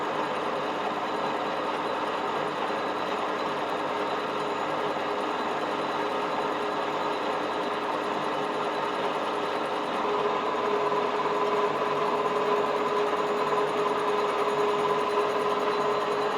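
Machining a Dexta tractor cylinder head, the cutting blade catching slightly on an uneven surface: a steady, even mechanical whirring hum with a faint rhythmic buzz, continuous and moderately loud, running alone with no speech.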